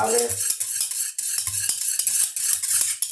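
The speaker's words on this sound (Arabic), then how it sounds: "ونقعد اقلب تاني" A spoon stirs a sweetened jelly mixture in a cup, making quick, close clinks and scrapes against the sides, with a few short low bumps mixed in and no talking.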